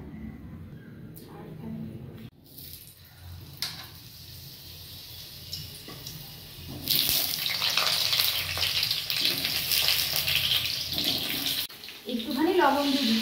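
Four large halved potatoes, washed, start frying in hot oil for a chicken curry: after quieter kitchen handling, a loud steady sizzle rises midway and holds, with a brief dip near the end.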